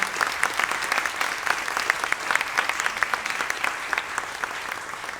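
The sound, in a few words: audience applause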